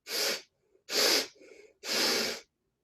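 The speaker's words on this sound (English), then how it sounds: "taking a nice deep breath in and out. Drawing 3 deep breaths in" Three deep breaths during a morning yoga practice, each a long broad airy rush lasting about half a second, close and fairly loud, with a softer, fainter breath between the second and third.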